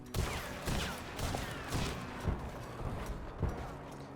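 Explosive rounds fire in a video game shooter, a steady rhythm of about seven heavy thudding shots with booming impacts, loud and close with no talk.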